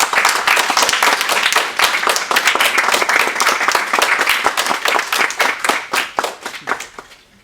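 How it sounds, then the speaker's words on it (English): An audience gives a round of applause after a talk on learning and transformation, dense clapping that runs loud and steady, then thins out and fades at the end. "Should we give Stephen a round of applause?"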